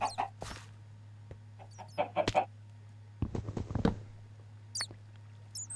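Chickens cluck and chirp close by in short scattered bursts over a steady low hum, with brief pattering sounds between the calls.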